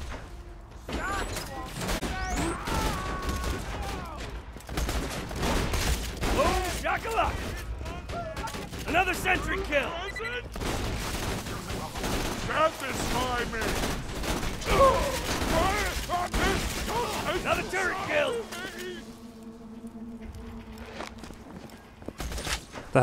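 Shotgun fire in the video game Borderlands 2, heavy blasts and clattering reload mechanics scattered through busy game action, with someone talking over much of it.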